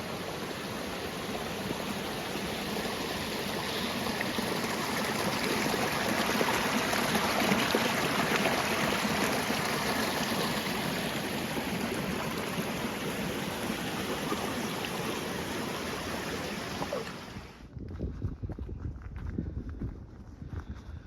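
Mountain stream on an Alaska trail pouring over flat rocks, a steady, loud broadband rush close by that holds for most of the stretch, then drops away abruptly near the end to quieter, more distant water.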